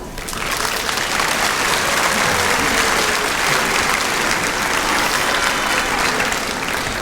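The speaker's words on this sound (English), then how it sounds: "I think some applause is in order for all of us" Loud, dense applause fills a large hall at a university commencement ceremony, with a big crowd clapping steadily and close by for the full duration.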